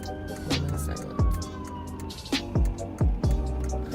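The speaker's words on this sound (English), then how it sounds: "look at that ambulance." A siren wails steadily in the background while several sharp thumps and bumps cut through close by, with street traffic rumbling throughout.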